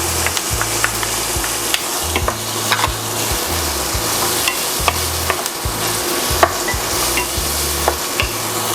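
Garlic sizzles and fries in a pan for beef mechado while a spoon stirs it, scraping and knocking against the pan over a constant hiss.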